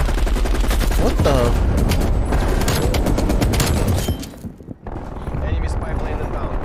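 M60 machine gun in Call of Duty: Black Ops Cold War, loud sustained bursts of close gunfire that cut off briefly near the end before firing resumes, with a voice speaking over the shooting.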